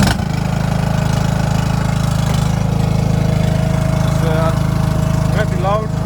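A Stiga Park Compact ride-on lawn mower runs steadily and loudly close by, its continuous engine drone holding throughout with a brief faint whine near the end.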